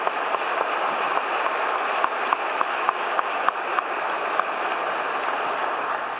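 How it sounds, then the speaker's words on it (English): Applause for a band ensemble at a joint military commissioning ceremony, a steady patter of many hands heard at moderate distance, with occasional sharper individual claps standing out over the crowd. "How about a round of applause for the band, the ensemble?"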